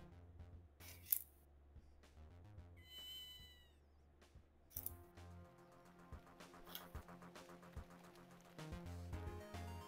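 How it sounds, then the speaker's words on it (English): A few short cat meows in the video game Ghost Trick: Phantom Detective over busy game music and effects, with a sharp snip-like click early on. "There's a cat."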